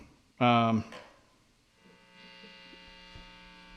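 A cranked Fender Stratocaster through a guitar amplifier gives a steady electrical hum with a throbbing buzz that lingers after a short loud burst of voice near the start.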